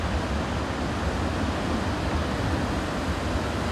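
Heavy surf from huge ocean waves at Nazaré during a surf championship, a steady broadband roar with deep low rumble and no distinct individual breaks, constant and fairly loud throughout.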